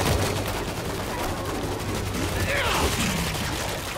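An automated turret firing in the World War Z shooter, Jerusalem chapter, a dense continuous rattle of rapid gunfire with mechanical clatter, loud and sustained for the whole stretch, with faint voices beneath.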